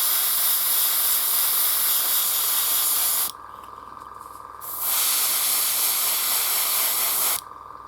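An airbrush sprays paint onto a Warhammer The Old World Razorgor miniature, working over the face, fur and ears. The hiss is steady and close, breaks off for about a second and a half midway, resumes, then stops briefly at the end.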